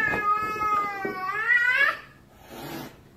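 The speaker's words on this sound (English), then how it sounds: "there's something wrong here, because the cat is hissing at me" A cat yowls close by in a long rising, wavering cry, followed by a briefer, fainter snarl, as it confronts a person on a cabin staircase.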